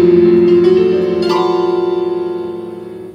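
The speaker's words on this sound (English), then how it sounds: "If you hold the pedal, it sounds more epic" A piano plays with the sustain pedal held, notes ringing together into a loud, sustained wash that slowly fades, with a few added notes struck over the decaying chord.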